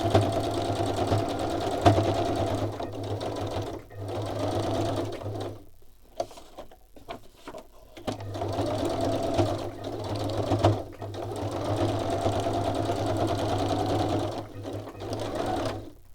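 A sewing machine stitching a second pass around a paper collage, running in steady rapid bursts with a brief pause of clicks and handling midway before the even whirring resumes.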